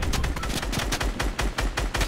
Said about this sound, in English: I'm gonna shoot that flare gun and try to take out this guy down here